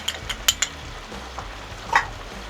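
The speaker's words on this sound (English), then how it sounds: "Now we need to keep stirring this till all those flavours mix up" Spices sizzling in a frying pan for chicken masala curry, stirred with a few sharp utensil scrapes and clinks over a low steady fry, close and fairly quiet.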